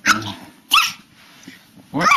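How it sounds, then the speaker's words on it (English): A farm dog barks and growls in short, loud bursts separated by quieter gaps, with people talking nearby. "What is that stupid dog doing?"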